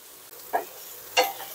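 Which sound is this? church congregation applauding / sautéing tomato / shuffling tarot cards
sautéing tomato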